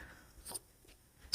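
Short scratchy pen strokes finish off a class 12 math derivation on paper, a brief quiet scribble followed by a sharper scrape at the end, in an otherwise silent room.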